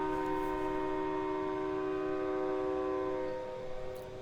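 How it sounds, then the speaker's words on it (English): A train horn mounted at a neighbor's house gives one long, loud, steady chord-like blast that fades slightly near the end, with no voices. "That's my neighbor who's got a train horn"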